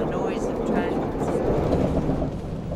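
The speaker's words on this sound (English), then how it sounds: "I like the movement of trains and the noise of trains." A passenger train runs along a New Zealand railway line between Auckland and Rotorua, a steady, broad rumbling clatter heard continuously at moderate loudness.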